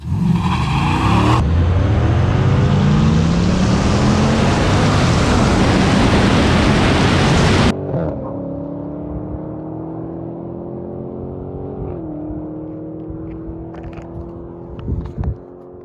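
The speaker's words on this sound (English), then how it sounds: "The Viper's 335 tires and massive low-end torque enable it to get a huge jump off the line" A stock twenty-year-old Dodge Viper launches hard off the line in a dig race, a loud roaring engine and wind rush climbing through the gears before dropping to a lower, steadier drone with shifts, no speech.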